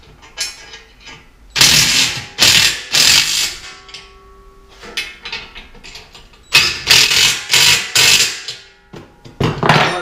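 Ratchet wrench tightening bolts on a trailer deck: bursts of rapid clicking in several separate runs, close and loud, with short pauses and a few clunks between strokes.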